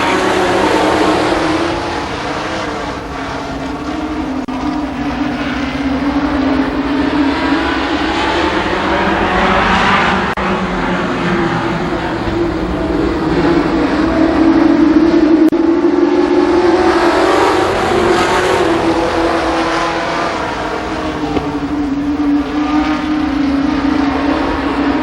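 Stock cars racing at Columbus Motor Speedway, a continuous loud roar of engines that swells and fades as the pack circles the track, with no talk over it.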